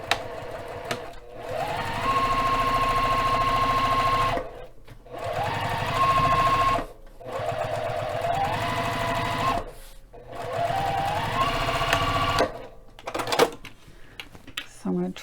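Sewing machine stitching along the bottom of a fabric bag, running in four steady bursts of several seconds each with short pauses between, close and loud, with brief handling noise at the end.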